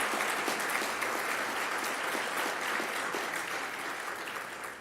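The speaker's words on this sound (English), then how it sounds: "Let's have one final round of applause for superb luncheon presentations." Audience clapping after luncheon presentations, a sustained wash of applause at moderate distance that fades slightly toward the end, with no speech over it.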